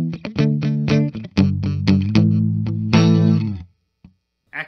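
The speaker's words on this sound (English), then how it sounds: "Or normal palm muting." A 2022 Fender 60th Anniversary Jaguar electric guitar is played with palm muting through chorus and distortion effects, a quick rhythmic run of short chugged notes and chords that ends in a sustained strum before falling silent.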